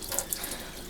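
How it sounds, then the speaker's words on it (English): Hot water tap running steadily in an off-grid home setup, a continuous close splashing hiss of water from the faucet with no talk over it. "Hot tap still running."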